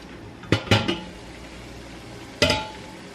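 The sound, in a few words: glass jars placed into canner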